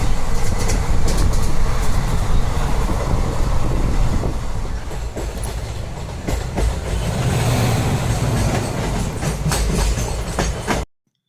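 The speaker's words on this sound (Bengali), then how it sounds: "আমরা কাঞ্চনজঙ্ঘা এক্সপ্রেস ধরেছি শিয়ালদা থেকে।" Kanchenjunga Express train from Sealdah running on rails, heard from inside a carriage: a loud continuous rumble with rhythmic clickety-clack of wheels over rail joints, steady throughout, then stopping abruptly.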